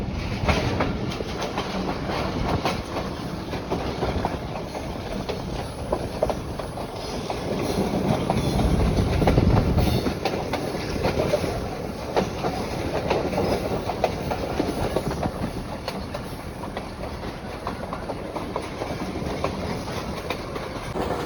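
Pakistan Railway train running along the track near Akhtar Karmana station, a steady rumbling clatter of wheels on rails with faint rhythmic clicks, swelling briefly louder midway, with no voices.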